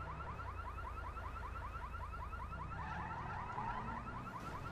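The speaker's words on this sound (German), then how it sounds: "irgendwo geht der Alarm an" In the video game GTA 5, a car alarm wails in a repeating rising and falling tone, heard faintly and at a distance over a low steady background rumble.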